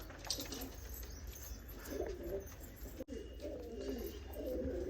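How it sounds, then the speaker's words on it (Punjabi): A pair of pigeons coo in soft, repeated low phrases at close range, with faint rustling and background noise and no speech over them. "ਆ ਗਿਆ ਕਬੂਤਰ ਜੋੜਾ"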